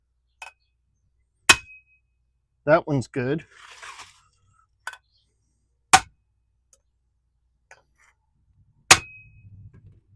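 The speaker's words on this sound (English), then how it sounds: "just hit them with a hammer" A hammer strikes parts of a 1969 Honda CB350 motorcycle, giving four sharp ringing metallic pings spaced a few seconds apart in a quiet workshop, with a brief spoken remark between them.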